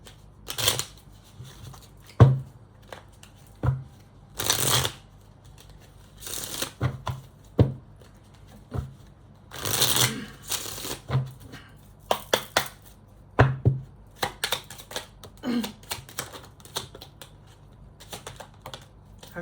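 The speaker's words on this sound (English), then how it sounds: "Here, let's pull these cards." Tarot cards are shuffled by hand in a series of quick riffling bursts, crisp papery flutters and soft taps repeating irregularly over nearly twenty seconds, close and fairly loud, with no talking.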